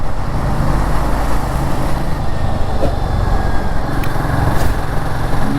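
A Royal Enfield Guerrilla 450 motorcycle engine drones steadily while riding on the road, a loud continuous hum mixed with wind and road noise, with a faint tick or two over the top.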